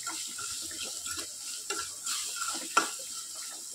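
Spices such as coriander powder being stirred and fried in oil in a pan, a steady soft sizzle with scraping stirs and one sharper clink of the spoon against the pan.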